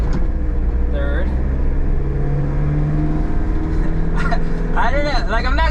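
A Daihatsu Terios with a column shifter runs steadily through low gears, its engine drone loud and close, with rev changes around each shift and a person talking briefly near the end.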